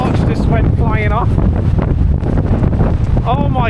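Storm Eowyn's strong wind gusts batter the microphone with loud, rumbling buffeting that goes on throughout, while people talk over the roar.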